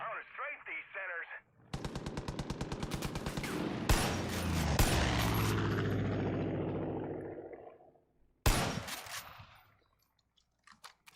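Loud rapid automatic gunfire rattles in the video game Far Cry 5 during a strafing run, a long dense burst followed by a second short volley, with brief speech-like sounds before and a fading tail after.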